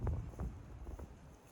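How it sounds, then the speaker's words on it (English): Strong gusty wind buffets an outdoor dog run during frisbee play in early spring, a low rumbling roar with surging gusts that swell and fade throughout, loud and close, with no voices. "It's a little windy for Frisbee, Bird."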